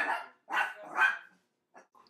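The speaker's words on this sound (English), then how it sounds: "And they're gonna knock, and then Peanut's gonna bark." Small dog barking indoors after a FedEx delivery knock: three sharp barks in quick succession, then a couple of fainter yips, moderately close with no talk over them.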